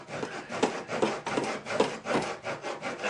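60 grit sandpaper wrapped around a flat wooden block, rubbed over model railroad trackwork in steady back-and-forth strokes, a close, coarse, continuous rasping with a regular rhythm.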